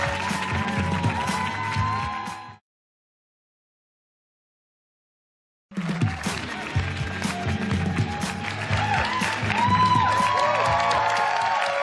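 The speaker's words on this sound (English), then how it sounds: "How about a round of applause for Retta, everybody?" A studio audience on a talk show breaks into applause and cheering, a dense clatter of clapping that cuts out to silence for a few seconds, then resumes loudly and builds toward the end.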